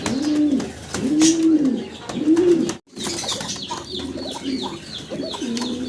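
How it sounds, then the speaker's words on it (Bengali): A pair of fancy pigeons coo nearby in repeated throaty, rolling calls. A brief gap in the middle is followed by softer cooing and faint chirps. "এক জোড়া ককা কবুতর আমরা দেখতে পারতেছি ডাকাডাকি করতেছে"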